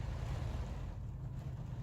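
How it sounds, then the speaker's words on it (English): Rain and wind buffet the outside of a van at night, heard from inside as a faint, steady rushing wash with a low rumble and no talking. "And now it's raining."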